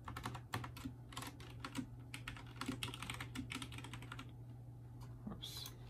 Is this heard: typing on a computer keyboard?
yes